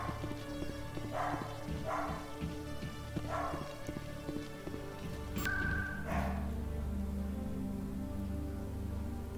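A dog barks in the next room, several muffled, evenly spaced barks under a steady hum of game sound, with no talking.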